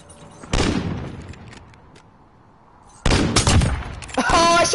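Close, loud bursts of gunfire from a Call of Duty Modern Warfare match: a sharp volley near the start, a quieter gap, then a heavy sustained burst with ringing, metallic tail toward the end.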